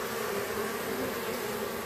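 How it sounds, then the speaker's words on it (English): Honey bees in an open, slightly lopsided hive cut from a swarm trap hum as a steady, dense, close buzz during a midsummer inspection, with no talking. "There's plenty of bees in there."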